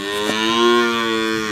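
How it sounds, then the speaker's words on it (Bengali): A Jersey cow gives one long, steady moo that is loud and close, with no voices around it. "একটা জার্সি গরু দেখাচ্ছি।"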